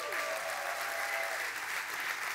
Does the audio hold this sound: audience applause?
yes